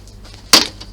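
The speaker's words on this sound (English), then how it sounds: "I'm not snipping out the little bits right where my scissors are now" A single crisp scissors snip cuts through paper or card while trimming a clutch design, one short sharp click standing alone over a faint quiet background.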